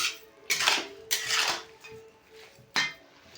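A spoon scrapes and clatters against a metal pan while stirring a coconut and sugar mixture for narkel naru, in several loud, uneven bursts with quieter scraping between them and no talk.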